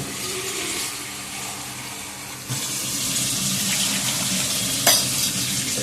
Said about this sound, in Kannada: ಎಣ್ಣೆ ಬಿಡುವ ತನಕ ಫ್ರೈ ಮಾಡುವ.